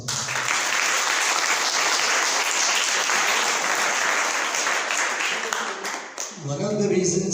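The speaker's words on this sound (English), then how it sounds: "we start by giving them a very loud applause" Loud, dense applause from a school audience for the teachers at a Republic Day celebration, steady for about six seconds before cutting off as a voice starts talking.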